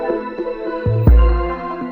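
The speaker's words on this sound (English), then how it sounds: "Final little bit of 808 sauce I did was pitch up this Huzz 808 and add a delay to it" A pitched-up Huzz 808 bass with a delay effect, produced in a modern drum bounce beat, drops in as a loud booming low hit around the middle, trailing off under the running beat with faint repeats.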